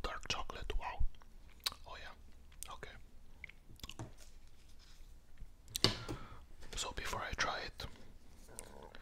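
Chewing and biting a Duplo Chocnut chocolate hazelnut bar close up, with soft crunches and mouth sounds mixed with quiet whispering throughout.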